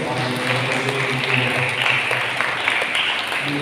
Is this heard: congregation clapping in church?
yes